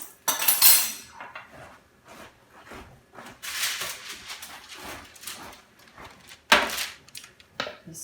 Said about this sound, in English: now all we need to do is spread it out on a pan